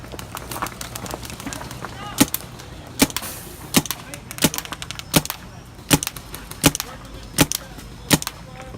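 Shots from an Emek paintball marker fire one at a time at a steady pace, about eleven sharp pops roughly a second apart over a constant background hiss.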